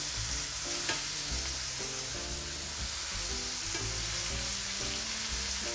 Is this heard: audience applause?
no